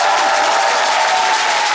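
A studio audience on a live talk show applauds in a dense, loud, continuous wash of clapping with no break.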